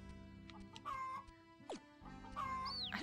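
Chicken clucking in the farming game Gleaner Heights, a few short clucks and a rising squawk over a steady background music bed, moderately loud and close, with no voices.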